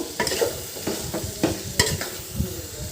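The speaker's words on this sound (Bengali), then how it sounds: "মাংসটা দিয়ে ভালো করে কষিয়ে নেবেন।" Meat being stir-fried in a pan after the spices have been sautéed, with repeated spatula scrapes and clatters over a steady sizzle, close and fairly loud, no voices.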